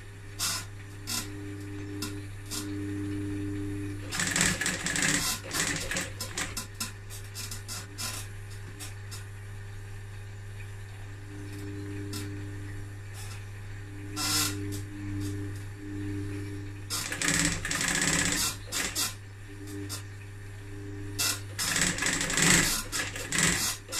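Sewing machine stitching the upholstery of a pouf, several loud bursts of rapid mechanical whirring separated by quieter pauses and faint handling noises, under a steady low hum.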